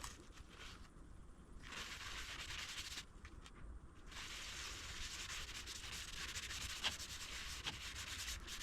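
Quiet, repeated rubbing strokes of a gloved hand and cloth spread boiled linseed oil over the metal ways of a lathe in a workshop, a soft, continuous scuffing with brief pauses.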